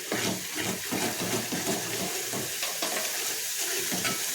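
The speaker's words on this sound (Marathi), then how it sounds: "मसाला आपल्याला छान मिक्स करून घ्यायचा वाटणामध्ये" Goda masala is stirred into a ground paste in a hot pan for a boyta fish curry. A steady close sizzle runs throughout, broken by repeated scraping, squelching stir strokes.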